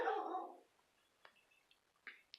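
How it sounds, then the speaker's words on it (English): A dog barks once, fairly loud, followed by a few faint, distant yips in quiet surroundings. "So my dang dog is barking outside."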